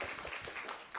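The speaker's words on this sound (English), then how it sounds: "Round of applause." An audience at a sustainability conference claps in a brief, dense burst of applause that sounds steady and moderately loud, with no speech.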